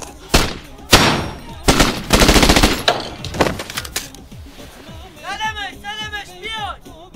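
Bursts of machine gun fire ring out in a 2015 Iranian crime film, the sharp volleys coming in irregular clusters. Tense shouted dialogue runs between and over the shots.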